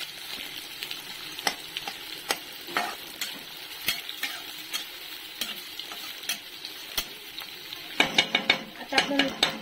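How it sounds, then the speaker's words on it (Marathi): Sliced onion frying in oil in a kadai for a Malvani crab curry. A steady sizzle runs under repeated sharp scrapes and clinks of a spatula against the pan, and these grow busier toward the end. "आता मी उभा चिरलेला जो कांदा आहे तो गोल्डन फ्राय करून घेणार आहे"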